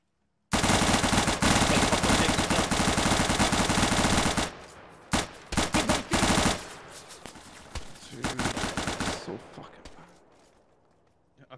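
Automatic gunfire in Arma 3 during a gang shootout in a Florida life roleplay mod: a long dense burst of rapid shots, then several shorter choppy bursts that trail off, loud and close.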